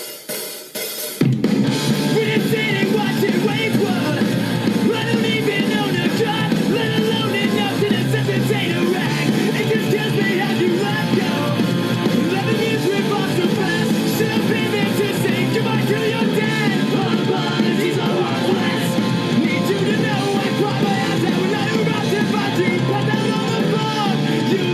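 A punk rock song plays: dense, loud, driving band music that runs continuously after a short silent start.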